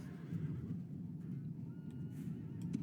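A cavalry clash in a Rome: Total War battle brings a low rumble of many hooves, with faint horse whinnies rising briefly above the steady mass of battle noise.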